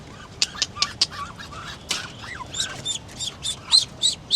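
Ducklings peep close by in a rapid, irregular run of short, high chirps that grows busier toward the end. No one talks over them.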